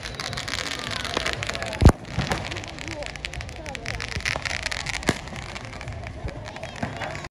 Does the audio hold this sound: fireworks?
yes